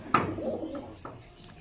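A pigeon gives a single close coo with a sharp onset, followed by a couple of softer, fainter sounds in a quiet room.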